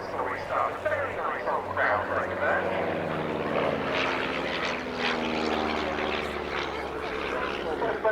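A de Havilland Chipmunk propeller aircraft flies a display at the Cosford Airshow 2022, its engine droning steadily with a gently shifting pitch as it passes at moderate distance, under continuous talk from an announcer.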